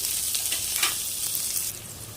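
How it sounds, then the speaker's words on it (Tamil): Hot oil sizzles and spatters steadily, with mustard and cumin seeds popping and crackling throughout, close up and continuous. "எண்ணெய் நல்லா சூடாயிருச்சு இப்போ இது கூடவே கொஞ்சமாக கடுகு கொஞ்சமாக ஜீரகம் ஆட் பண்ணிக்கிறேன் கடுகு நல்லா பொரியுது"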